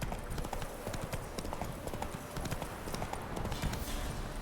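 Roach the horse's hooves clip-clopping in Witcher 3, a steady trotting rhythm of hoof falls over ground amid continuous background ambience, moderately quiet.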